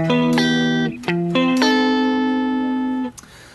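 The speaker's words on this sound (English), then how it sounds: "the clean DI sounds like this." A clean DI electric guitar plays a few plucked notes and chords with bright, dry sustain, three separate attacks ringing out before cutting to near silence, close and fairly loud with no talking.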